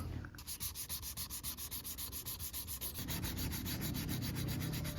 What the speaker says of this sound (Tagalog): Tapos, dry sanding lang tayo kasi gusto kong makita yung mga bako-bako.